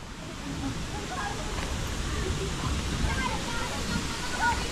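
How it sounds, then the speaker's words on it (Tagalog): River water flowing, a steady broadband rush close by and moderately loud throughout, with no talk over it. "hindi ko alam na may ilog dito ganito"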